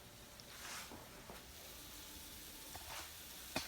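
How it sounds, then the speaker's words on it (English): Chicken with seasoning cooking in a pot of water on the stove, giving a steady, faint sizzling hiss with a few small pops and clinks, no talking. "is cooking, almost done."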